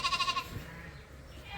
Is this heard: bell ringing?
no